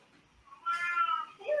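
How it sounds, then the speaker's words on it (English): An elderly pet cat throws a fit with a drawn-out, strained meow close by, then starts a second rising cry right after a brief pause. "Yes, this is my elderly cat little brother who is just throwing a fit"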